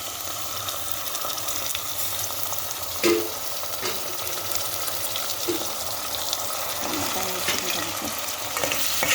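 Tomatoes frying in a pan for a curry with broad beans and potatoes, a steady low sizzle with occasional stirring scrapes and a brief water-like pour, close and moderately quiet, no talking.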